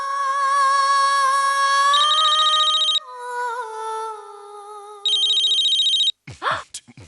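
A telephone rings loudly in a warbling electronic tone, changing pitch partway, then stops and a voice speaks briefly.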